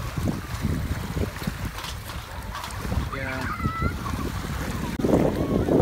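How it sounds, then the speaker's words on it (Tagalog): Strong wind roars and buffets the microphone on a coastal road trip in Davao del Sur, Philippines, with water and waves underneath and a voice speaking briefly. "Napaka lakas ng hangin"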